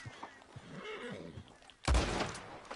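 A horse whinnies in Red Dead Redemption 2 amid game ambience, followed by a sudden loud thump or blast that fills the last second.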